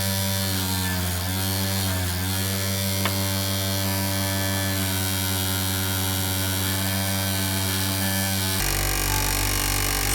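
A motor-driven wire wheel cleans a small metal part being prepared for cold bluing, with a steady electric whine and hum that changes abruptly near the end.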